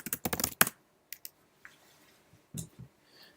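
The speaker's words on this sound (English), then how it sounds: "I can type Python" Keys on a computer keyboard clatter in a quick burst of close clicks, then a few scattered taps follow after a pause in a quiet room.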